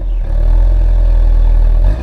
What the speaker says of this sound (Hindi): तो एक बार अभी इसे स्टार्ट करते हैं, उसका एग्जॉस्ट नोट सुनते हैं जो यहाँ पे जॉन कूपर वर्क्स लिखा हुआ है एग्जॉस्ट पे